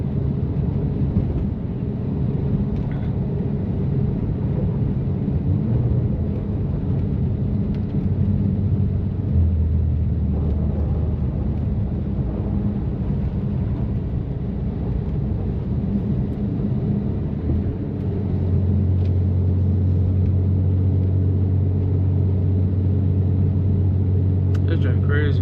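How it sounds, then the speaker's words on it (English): Steady close engine drone of a 650 hp rear-wheel-drive BMW M3 drifting through a blizzard, a low continuous rumble with shifts in pitch as it slides, under intermittent talk from inside the car. "I'm drifting."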